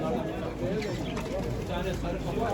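Turtle doves cooing softly at an Istanbul bird market amid steady background chatter and market noise, with people talking nearby throughout.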